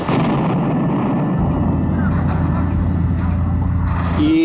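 Deep, continuous low rumbling with heavy booming texture, like distant shelling or explosions rolling on without a break, from artillery shelling of the town of Kostiantynivka.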